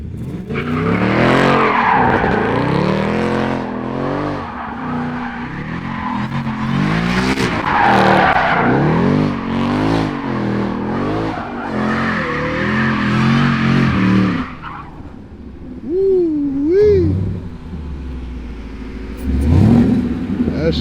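A Nissan 350Z Nismo skids and revs, its engine wailing through rising and falling sweeps with tire squeal over about fifteen seconds, then drops to quieter idling with a few fading revs.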